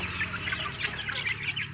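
Native village chickens clucking busily alongside muscovy ducks, a close, dense chorus of overlapping clucks and calls from a small backyard flock, with no talking.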